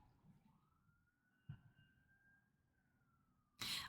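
A faint, distant siren wails in a long, slowly rising and falling tone over quiet Seattle city background, ending with a sudden loud noise.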